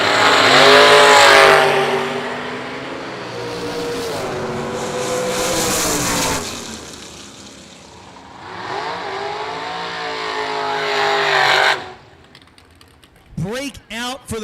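Dragster engines at the IHRA World Finals drag race scream in loud rising and falling passes, two distinct roaring surges with a quieter dip between, then cutting off abruptly near the end before brief voices and clatter.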